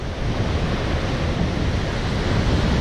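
Surf rolling onto a beach on the Caspian Sea coast in Iran, a loud, close, continuous roar of waves mixed with wind buffeting the microphone, with no voices.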